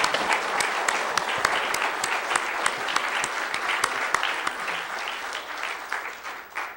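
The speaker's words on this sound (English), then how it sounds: "So please give them a round of applause." Audience applause at a county candidate forum after an evening debate, steady and dense from a full room, sustained for several seconds and tapering slightly toward the end.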